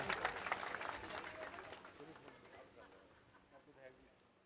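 A crowd claps at a village panchayat inauguration of a reservoir immersion ghat to welcome the MP. The applause is loud at first, then thins and fades, with a voice talking over it.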